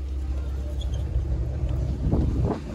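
A Chevrolet Camaro engine running at idle nearby, a steady low rumble that swells slightly toward the end, with faint wind noise and no speech.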